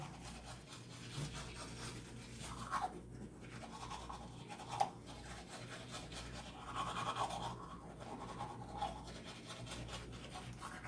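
Someone brushes their teeth with a toothbrush, a steady close scrubbing and rubbing that runs throughout with brief louder strokes, no talking over it.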